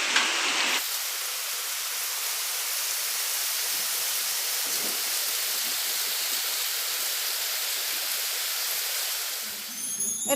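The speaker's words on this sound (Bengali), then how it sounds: "বৃষ্টির আওয়াজটা আপনারা উপভোগ করুন" Heavy rain pours steadily on a foggy morning, a dense, even roar with no break that fills the whole scene before cutting off near the end.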